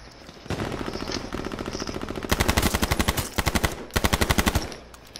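Legendary LMG in the video game H1Z1 firing long sustained bursts of rapid, evenly spaced automatic shots, loud and close, with a few brief pauses between volleys.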